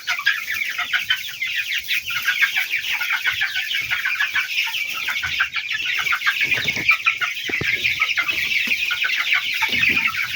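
Broiler chickens and chicks in a farm shed cluck and cheep continuously in a dense, busy chorus at close range.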